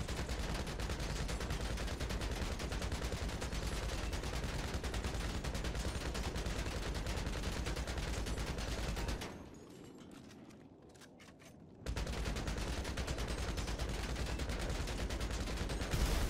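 Sustained gunfire from a Mark II machine gun in Grand Theft Auto, a dense continuous automatic stream broken by a brief pause of a few seconds before resuming.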